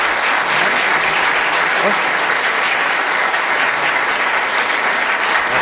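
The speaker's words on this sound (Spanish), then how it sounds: "Agradecemos con un aplauso fuerte al conferenciante." An audience applauds a lecturer at the close of a conference session, with steady, dense clapping that fills the room evenly from start to finish, and no speech over it.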